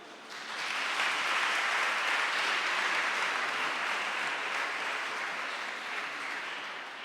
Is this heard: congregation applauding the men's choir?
yes